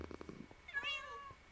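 A video game cat makes a short, quiet meow with a brief bit of purring before it, close and alone.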